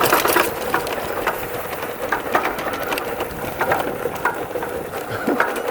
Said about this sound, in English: I definitely hear my fender in the back.